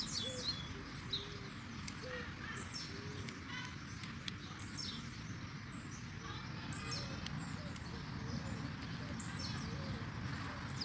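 Double-collared seedeaters call outdoors in the bush, with short chirps and whistled phrases repeated intermittently at moderate distance over a steady broadband background hiss.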